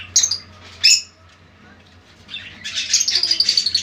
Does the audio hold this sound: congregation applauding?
no